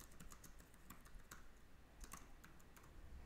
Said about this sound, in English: So we're just typing in here.